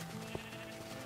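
Sheep in Minecraft bleat in a single short burst amid a steady, tonal game background, fairly quiet and with no talking.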